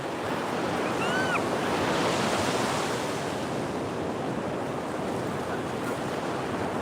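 Ocean surf rushes steadily onto a beach where someone is fishing, a loud, continuous wash of breaking waves mixed with wind buffeting the microphone.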